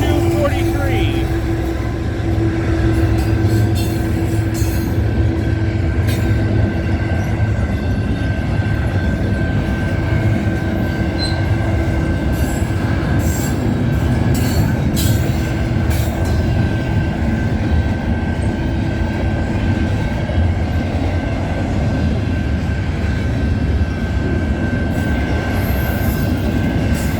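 A heavy freight train rolls past steadily at night, a constant low rumble with rail clatter and occasional high squeals, with voices faintly underneath.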